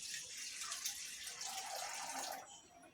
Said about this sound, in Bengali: দিয়ে দিলাম আমি এখানে পরিমাণ মতো পানি।